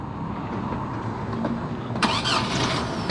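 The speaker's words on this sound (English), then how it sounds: "His car's not starting." A car engine cranks over and over without catching, a steady mechanical churn with a louder burst near the end, heard in a public outdoor setting.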